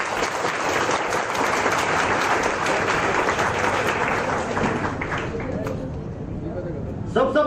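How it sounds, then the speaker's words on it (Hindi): Sustained applause fills a hall at a student award ceremony, dense clapping that holds steady and then thins out near the end, where a voice briefly comes in. "गोटे दोनों हाथ ताली बाजू।"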